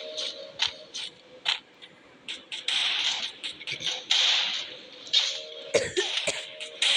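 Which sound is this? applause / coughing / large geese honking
coughing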